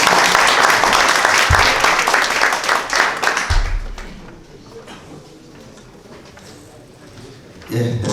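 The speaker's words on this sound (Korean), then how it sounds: "큰 박수로 환영해 주시기 바랍니다." Audience applause welcoming a National Assembly member to open a policy debate forum on animation, a dense, loud burst of clapping lasting about four seconds before fading to a quiet murmur, with a brief rise again at the end.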